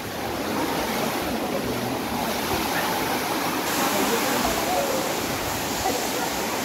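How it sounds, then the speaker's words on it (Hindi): Waterfall at a crowded picnic spot, a loud, constant rushing roar of falling water that fills the whole stretch without a break. "और इधर में वाटरफॉल है।"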